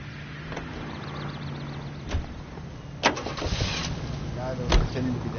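Car driving in L.A. Noire: a low steady engine hum runs under the scene with a few door-like thumps and clicks, fairly quiet and close.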